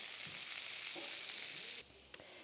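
Broccoli sizzles steadily in a buttery pan for chicken piccata, a soft continuous frying hiss that drops away near the end, followed by a brief clink.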